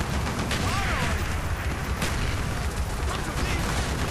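Heavy explosions and sustained battlefield rumble from an air support strike on a tank in Call of Duty: Black Ops, a dense continuous roar of blasts and gunfire at close range, with speech mixed in.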